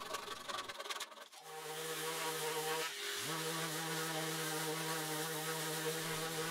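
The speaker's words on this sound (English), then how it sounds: "and then sand everything smooth." Power sander running steadily on wooden workbench frame parts, a continuous loud buzzing drone after a brief rough start, with a short dip in pitch midway as the tool bears down on the wood.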